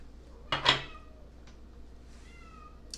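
A cat gives a short, close meow, with a faint second cry a moment later, over a quiet indoor room hum and a soft clink.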